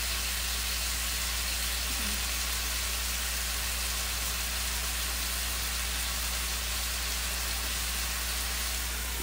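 Marinated steak pieces cook in a covered pan for breakfast burritos, giving a constant, even sizzle that holds steady from start to finish with no talking.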